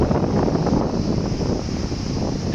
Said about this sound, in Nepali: यता चाहिँ बोलेको सुनिँदैन हावाले होइन